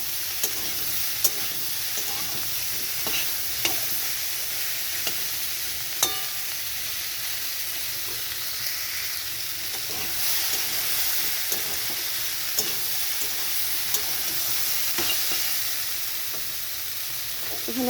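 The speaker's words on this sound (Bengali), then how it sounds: "এখানে আলু কুমড়োটা দেওয়া হয়ে গেছে। তো এটা ভালো করে ভাজতে হবে।" Potatoes and pumpkin frying in a pan, a steady soft sizzle with occasional scraping taps of a stirring spoon, no talk.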